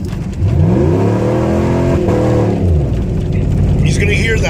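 A car engine roars and climbs in pitch as the accelerator is floored, a loud sustained droning rev heard from inside the cabin with a voice talking over it.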